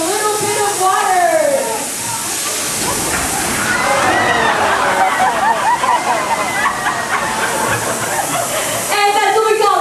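A large water splash effect on a studio backlot tour rushes and sloshes loudly for several seconds, a heavy hissing wash of water, with voices over it at the start and end.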